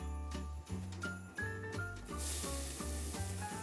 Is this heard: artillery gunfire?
no